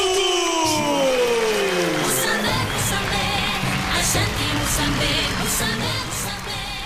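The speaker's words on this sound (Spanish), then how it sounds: "el respeto y el aplauso del público para recibir a Musambe Tutu" Audience applause and cheering fill a venue as a wrestler is introduced at a professional wrestling event, a dense steady clapping sound with crowd noise and a fading announcer's tone at the start.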